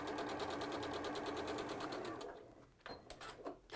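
A sewing machine chain-stitches fabric in a steady, fast mechanical whir for over two seconds. It then slows and stops, and a few handling clicks and rustles follow nearby.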